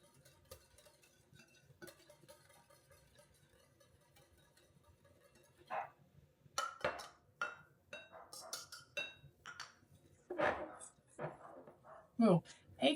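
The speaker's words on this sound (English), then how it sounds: "Sorry about my dogs barking." Dogs bark in several sharp, irregular bursts, some near and loud, after a stretch of quiet background murmur.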